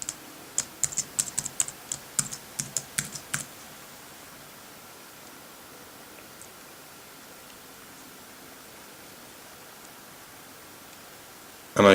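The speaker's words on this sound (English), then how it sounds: "now if I type in my password" Keys on a computer keyboard are tapped to enter a password. About a dozen quick, crisp clicks come in a short burst, followed by near silence.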